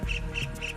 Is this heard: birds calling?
yes